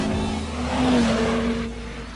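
An Audi TT RS with four-wheel drive accelerates hard on a race track, its engine note rising to a loud, close roar before easing off.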